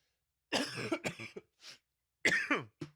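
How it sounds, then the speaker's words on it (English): A few sharp coughs in quick succession, close and loud, with a short throat-clearing burst in between and brief silences. "I'm coughing all over the place all of a sudden."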